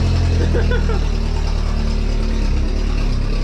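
A Volkswagen Golf race car with a 1.8T engine running as it is pulled out, a loud steady idle rumble close by with a faint voice briefly over it.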